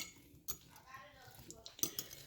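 Steak and onions being stirred in a pan, with a few utensil clinks and scrapes against the metal, close and quiet.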